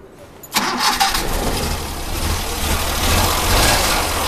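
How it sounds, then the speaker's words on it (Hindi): Suzuki Bolan engine cranks and catches after a short quiet moment, then runs with a steady, slightly uneven idle close to the microphone, checked for a misfire after spark plug wiring work. "तो अभी गाड़ी को स्टार्ट करके पहले हम चेक कर लेते हैं कि मिसिंग कर रही है या नहीं।"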